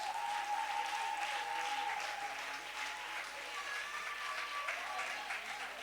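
Congregation clapping in praise of God at a French-language church service, a steady, dense wash of applause that holds for several seconds with no pauses.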